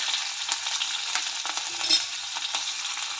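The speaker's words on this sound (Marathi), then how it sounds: "मोहरी तडतडायला लागली, त्यानंतर जिरे घालते. त्यानंतर हिरवी मिरची, लसूण, शेंगदाणे" Mustard seeds, cumin, green chili, garlic and peanuts crackling in hot oil for a winter chickpea-leaf dish, a loud, close, continuous sizzle with scattered pops and stirring scrapes, no voices.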